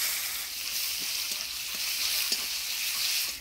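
Whole cumin seeds, bay leaf and chopped onion frying in oil for an egg curry, a soft steady hiss and sizzle with a few light taps of a stirring spoon, no voices.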